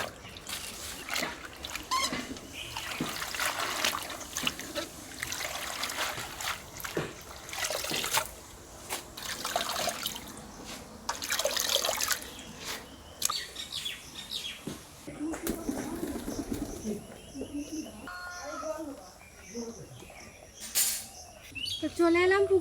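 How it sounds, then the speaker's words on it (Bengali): Leafy greens, including drumstick leaves, are washed by hand in pond water at the bank, with intermittent trickling, dribbling and splashing, close by, and birds chirping in the background. "চলো এবার ভালো করে শাকগুলো আমি ধুয়ে নেবো।"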